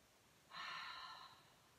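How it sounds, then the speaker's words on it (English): A single slow exhale through the mouth during a guided relaxation breathing exercise: a soft, airy breath that swells quickly, holds for about a second and fades, close and alone against quiet room tone. "then you're going to exhale through your mouth"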